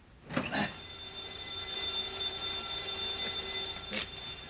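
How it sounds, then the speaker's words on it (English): A home security alarm, set off by a magnetic window sensor as the window opens, blares a steady electronic siren tone after a couple of bumps, holding loud and continuous. "See, when one magnet went away from the other, it triggered the alarm."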